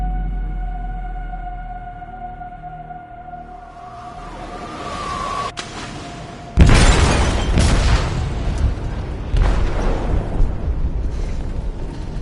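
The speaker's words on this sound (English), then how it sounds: "They detonated an explosive in the hold." Aboard a ship in the video game Detroit, a low droning ambience and faint tones build until a loud, close detonation in the hold booms out, followed by a long rumbling, crackling aftermath with further deep thuds.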